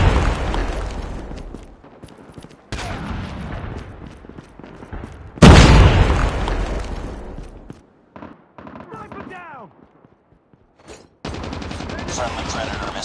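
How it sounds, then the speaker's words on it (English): In a Call of Duty Domination multiplayer match, Predator missile explosions erupt, with a heavy booming blast midway amid rattling gunfire bursts and radio-style announcer voice lines. "Friendly Predator missile inbound."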